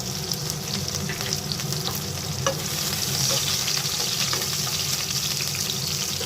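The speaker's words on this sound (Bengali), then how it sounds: "আমি এর মধ্যে প্রথমে এইভাবে গোল গোল করে কুচানো কাঁচা লঙ্কা দিয়ে দিলাম।" Sliced green chillies fry in hot oil for a Bengali dry fish curry, giving a steady close sizzle with faint stirring scrapes; no one talks.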